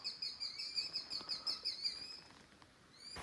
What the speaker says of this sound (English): It's a brave bird, very brave bird.